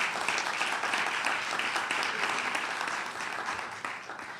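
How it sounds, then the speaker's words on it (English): A round of applause from a summit audience, steady, moderately distant clapping that continues throughout and eases slightly near the end. "Yeah, that's a round of applause."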